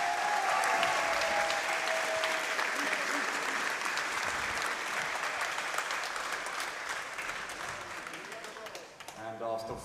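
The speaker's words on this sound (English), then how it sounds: "Let's give a huge round of applause for these fighters." A ringside crowd at a Muay Thai fight night gives loud, sustained applause after a bout, thick clapping that slowly thins near the end, with a voice briefly breaking through.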